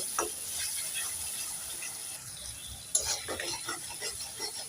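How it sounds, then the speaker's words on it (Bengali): Turmeric and chili powder stir-fried in a pan: a soft hiss of spices frying with scraping stirs and a couple of clinks from the utensil, close and fairly quiet, no talking. "এবার মশলাগুলোকে নেড়ে সেড়ে ভালোভাবে"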